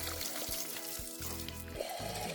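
Spring water trickling and flowing out of a mountain source in La Campana National Park, Chile, a steady close splashing wash with low gurgles that continues throughout without talk.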